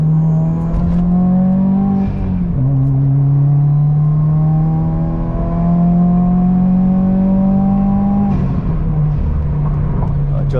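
A modified Subaru WRX pulls hard on a highway, its exhaust and induction droning loudly as revs climb through a gear, dip at a shift, then climb again, with a voice talking over it.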